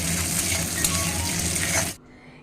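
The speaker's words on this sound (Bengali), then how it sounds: "অল্প করে শুকনো লঙ্কাও দিয়ে দিলাম, দিয়ে এটা যেমনি ফোড়নটা হয়ে যাবে, গন্ধ ছাড়বে একটা" Dry red chillies crackle and sizzle loudly in hot oil for tempering, a dense steady frying hiss that stops abruptly near the end.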